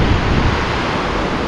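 The fast-flowing Alaknanda river near Badrinath rushes past in a loud, steady roar of churning water, close by and alone for a brief moment.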